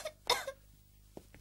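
A patient gives a couple of short, sharp coughs close by during a doctor's examination, separated by a brief quiet pause.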